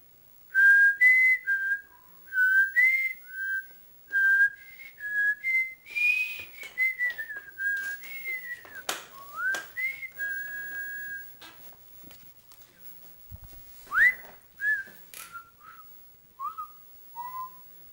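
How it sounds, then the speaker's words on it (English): A person whistles a wandering tune alone, a series of clear pitched notes with short pauses, some sliding up and down, fairly close. "I'm having trouble whistling today."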